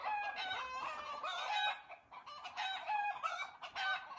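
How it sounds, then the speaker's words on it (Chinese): Chickens in a mountain farm coop keep up a continuous clucking and crowing chorus, bright, fairly close and rising and falling in overlapping calls, with no talk. "这就是鸡舍的鸡下的叫声。"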